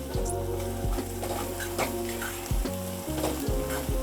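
Chopped onions frying in oil for an egg curry, turning reddish as they cook: a steady close sizzle with repeated scraping stir strokes of a spatula in the pan.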